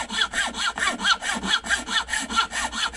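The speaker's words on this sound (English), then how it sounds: "line up with that saw mark and start sawing" A hand saw cuts through wood to make a whistle, a steady back-and-forth rasp of about ten even strokes, close and alone.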